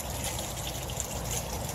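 Water trickles steadily from a custom-built waterfall at a backyard turtle pond, a continuous close splashing wash with no pauses and no voices over it.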